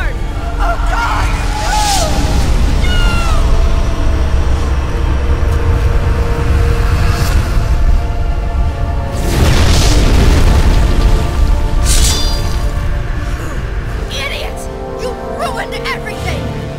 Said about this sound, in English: It'll explode unless you pull out the sword!